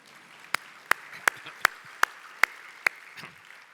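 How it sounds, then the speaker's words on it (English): A handful of sharp, separate claps at a luncheon awards event, about seven evenly spaced hand claps standing out over a quiet room rather than full sustained applause. "you can clap one more time"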